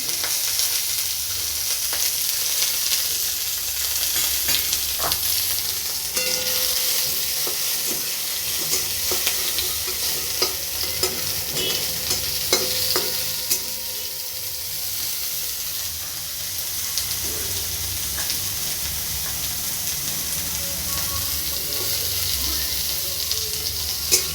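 Onion, tomato and green chilli fry in mustard oil with a bay leaf. The pan gives a long, continuous close sizzle, broken now and then by stirring scrapes, with no one talking.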